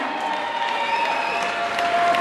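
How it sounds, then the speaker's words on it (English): Crowd applause and cheering for two boxers after the final bout of a fight night, a steady dense wash of clapping filling the whole moment at even loudness. "applause for both of these men in our final fight this evening"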